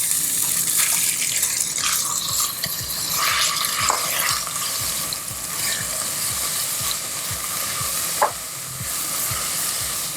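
Shrimp paste and onions sizzle steadily in hot oil, with a continuous crackling fry and occasional clinks of a utensil stirring the pan.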